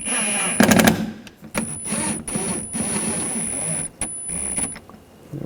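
Fasteners on the rear window regulator of a 2004-2009 Audi A4 Quattro are snugged down with a power tool in several short clattering bursts, with a high whine and some handling clicks between.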